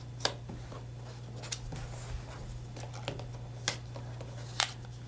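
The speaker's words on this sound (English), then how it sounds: "I can use the lines in the plaid just to cut across with my scissors, a little straight line" Scissors cut a straight line across plaid paper while a handmade card is being made. A few sharp, spaced snips sound close but faint over a low steady hum, with no talking.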